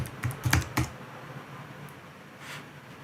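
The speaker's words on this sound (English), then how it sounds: "So if I type that in there now, flowers" Quick bursts of close, clattering keystrokes on a computer keyboard as search terms are typed, several taps packed together and then a quieter stretch with a lone faint tap.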